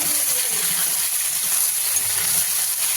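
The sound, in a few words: potatoes added to hot oil, frying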